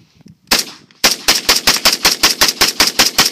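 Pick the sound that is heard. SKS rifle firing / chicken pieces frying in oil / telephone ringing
SKS rifle firing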